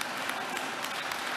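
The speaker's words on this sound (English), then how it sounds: "thanks for the applause" Audience applause at a talk on race and faith, a brief dense patter of clapping from a crowd, steady and moderately loud throughout.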